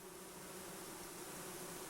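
Honey bees buzzing inside a hive, a steady dense hum that holds evenly throughout with no voices.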